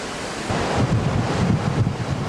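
Strong waves crashing and gusting wind buffet a cliff-edge seaside village in Busan, a loud, continuous roar of surf and wind noise with no voices.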